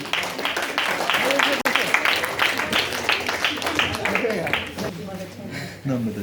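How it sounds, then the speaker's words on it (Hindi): An audience at a quiz competition for World Braille Day applauds two contestants, a dense, steady wash of many hands clapping that holds for several seconds, with voices mixed in. "राम मनोहर और प्रियंका के लिए एक बार जोरदार ताली।"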